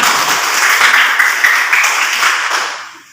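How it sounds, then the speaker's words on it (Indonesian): A primary school class claps together in a classroom after a pupil's answer, a loud dense burst of hand clapping that holds steady and then fades out toward the end. "bagus, tepuk tangan."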